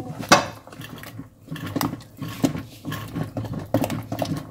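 Rib porridge being stirred in a pot, with a spoon scraping and clinking against the metal in irregular, close strokes, alone and fairly loud.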